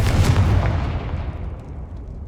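A Confringo blasting spell bursts in Hogwarts Legacy, a heavy booming explosion at the start that rolls off into a long fading rumble, loud and close with no voices.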